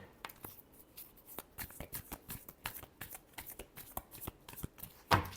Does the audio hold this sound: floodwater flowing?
no